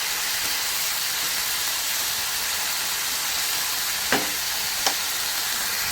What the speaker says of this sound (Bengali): দেওয়ার পরে জোরে আঁচে করে এটাকে ভালো করে ভাজবো, লাল লাল করে ভেজে নেব আলু পেঁয়াজ দুটোই।